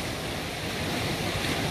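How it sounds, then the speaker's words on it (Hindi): Mountain stream below a snowy peak near a sage's cave, running at reduced flow, gives a steady, continuous broadband rush of water, close and fairly loud, with no voices. "अभी ऊपर बर्फ़बारी होने के कारण पानी का फ्लो थोड़ा सा कम है"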